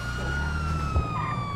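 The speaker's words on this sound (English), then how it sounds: "Siren's on." A steady electronic siren tone from a police car in GTA Online holds a high pitch under a low engine rumble, with a brief thump near the middle; no voices.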